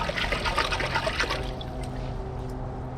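Water swishes and trickles in a toilet bowl as dye is stirred in, a steady close liquid sloshing that softens toward the end.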